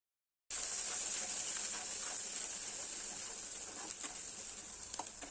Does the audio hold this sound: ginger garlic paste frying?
yes